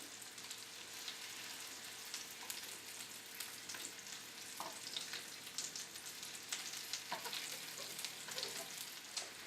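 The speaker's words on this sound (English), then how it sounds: "Okay, so our garlic is beginning to kind of saute." Garlic sautes in oil in a pan, giving a steady, soft sizzle and crackle with scattered small pops, quiet and close, and no voices.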